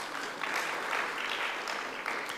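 Steady applause from an audience at a memorial service, a continuous wash of many hands clapping at even volume throughout.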